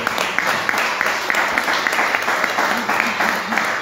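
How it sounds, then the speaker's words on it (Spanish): A church congregation claps loudly and continuously, dense overlapping hand claps close to the microphone with a fast, slightly pulsing rhythm and some crowd noise mixed in. "¿Alguien aplaude a Dios aquí?"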